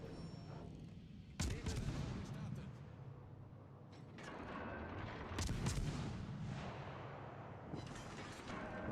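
Heavy naval gun salvos from World of Warships Legends boom twice, a few seconds apart, each followed by a rumbling tail over a steady engine-like hum in the background.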